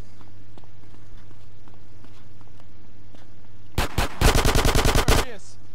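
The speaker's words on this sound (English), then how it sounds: "gonna bring a handgun to a frickin' SMG fight?" SMG gunfire in Grand Theft Auto: San Andreas, two quick shots then a rapid loud burst of about ten rounds, over a low steady game background hum.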